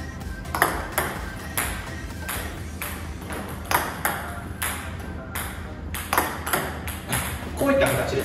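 A table tennis backhand serve, the body turned to the backhand side while the ball goes to the forehand side, gives a run of sharp, close ball clicks on the table and paddle at an irregular rhythm over a low room hum.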